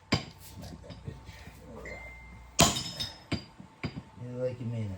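Sharp metallic hammer blows on an axle universal joint of a 2010 Dodge Ram 3500 ring out irregularly, one loud clang standing out, amid clinks and background shop noise.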